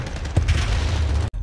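Gunfire in Modern Warfare, heard as a heavy, booming, continuous rumble of shots with a sharp cut near the end, loud and close.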